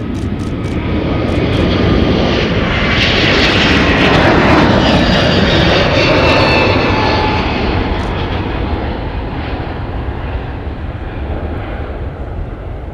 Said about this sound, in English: There's Delta 377 off to Anchorage, Alaska with the A321neo.